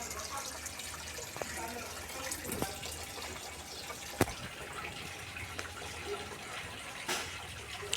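Faint, steady running water splashes and trickles into a fountain display, with a few soft knocks and clicks along the way.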